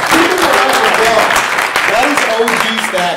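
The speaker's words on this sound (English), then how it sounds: "Give him a round of applause." Keynote audience applause filling a conference hall, a dense steady wash of clapping with whoops and cheering voices mixed in, loud and sustained throughout.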